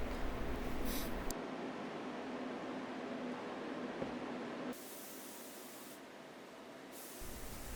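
Capspray Maxim Elite spray gun laying a top coat finish onto an antique table, a steady close hiss of atomized spray that runs continuously, drops in level partway, then resumes, with no talking.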